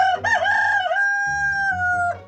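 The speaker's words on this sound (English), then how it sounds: "Mr. Cock-a-doodle let out his loudest crow yet" A rooster crows once, loud and close, a long drawn-out cock-a-doodle-doo call with a rising start and a sustained tone, heard alone.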